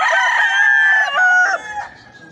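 Rooster crowing once, a loud, close, drawn-out call that trails off near the end, alone without talk.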